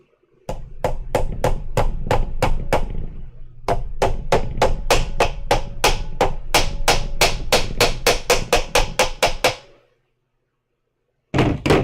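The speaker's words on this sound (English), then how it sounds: "Tap the seal in." A hammer taps a seal into place in a shop, repeatedly in a quick, even rhythm, a long run of sharp metallic knocks, then a brief pause before a few more strikes.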